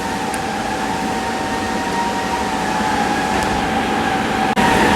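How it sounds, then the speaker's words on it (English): An angle iron punching machine for HVAC ductwork, just switched on, runs with a loud, steady mechanical hum and a faint whine held evenly throughout, with a brief dip near the end and no talking. "After you connect the power, switch on the machine."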